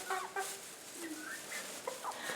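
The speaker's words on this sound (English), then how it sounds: "These chickens are saying, where's my breakfast?" Several chickens in a backyard coop cluck and squawk in short, scattered calls, fairly quiet and close, with no talking.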